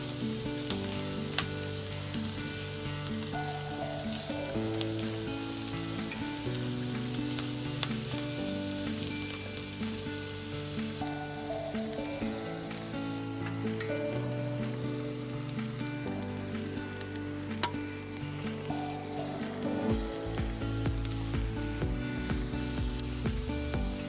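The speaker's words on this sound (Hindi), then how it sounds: "तो ये हरी मिर्च ये भी डाल देते हैं और सबको अच्छे से चला के भून लेते हैं गोल्डन होने तक।" Onions and green chillies sizzle steadily in a pan while being stirred until golden, a continuous close frying hiss with occasional utensil scrapes throughout.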